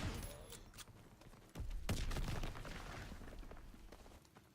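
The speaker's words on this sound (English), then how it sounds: "Here I'm using the Winchester, which is just the first shotgun." Shotgun blasts from a Winchester in a World War II video game, with a couple of sharp reports amid distant battlefield gunfire and booms, fairly faint, with some talking.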